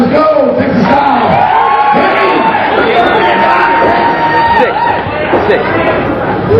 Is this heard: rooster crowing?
no